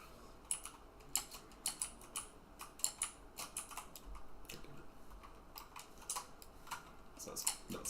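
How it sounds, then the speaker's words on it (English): Close, rapid clicking of a computer keyboard as Minecraft is played: irregular runs of sharp keystrokes continue throughout over a low background hum. "Sorry, I hope my keyboard hasn't been completely annoying the hell out of everybody watching."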